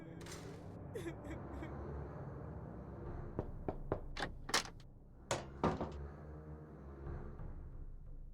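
A creaking, clattering door opens and thuds shut in the Nancy Drew mystery game Curse of Blackmoor Manor, with a cluster of sharp knocks and clicks amid the game's ambience and voices talking.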